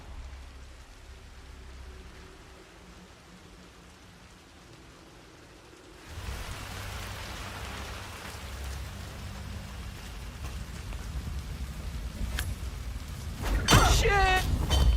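Rain in the stealth game Hitman 3 becomes a steady broadband wash after a quieter opening, with a brief sharper burst near the end.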